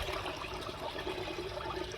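Water sloshes and swirls steadily inside a rusty Honda VFR400R motorcycle fuel tank being rinsed out, a continuous close, hollow gurgling wash with no pauses.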